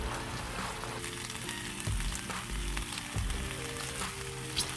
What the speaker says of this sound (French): Le mouton est en train de cuire tranquillement.